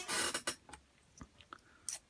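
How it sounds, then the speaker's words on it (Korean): A hand saw rasps through a Bandai mega-size Unicorn Gundam arm part, the plastic giving short, close scraping strokes in an uneven rhythm with brief pauses between them. "좀 조심해서 이제 톱질을 하면 비교적 깔끔하게 톱질이 되거든요"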